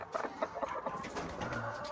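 Several laying hens clucking close by inside a pastured egg mobile, short, overlapping bursts, a busy, low murmuring cackle with no talking.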